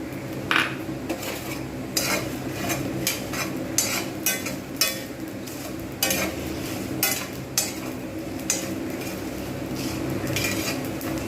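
Whole cumin and spices roasted in a pan with steady stirring, a spoon scraping and clinking against the metal at an irregular beat over a soft frying hiss, close and clear.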